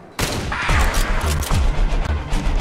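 A Kar98k bolt-action rifle fired in a zombies shooter game, a sudden loud blast followed by dense crackling impacts and booming rumble for a couple of seconds.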